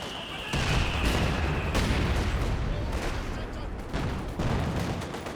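T-34 tank fire in the video game Company of Heroes 2, heard as a dense run of loud booming shots and artillery blasts layered over each other, with a brief high whine early on.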